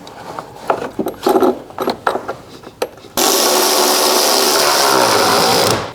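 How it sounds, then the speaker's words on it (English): Installing a battery hold-down wedge in a 2015-2022 V6 Chevrolet Colorado: a few clicks and plastic knocks, then a loud steady whirring power-tool drone for several seconds. "We're going to install our hold down wedge."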